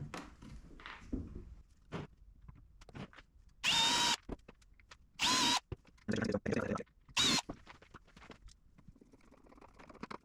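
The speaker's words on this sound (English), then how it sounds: "we're going to pre-drill the holes right now." A power drill pre-drills pilot holes in wood in a few short, loud bursts, separated by quieter handling clatter and tool movements nearby.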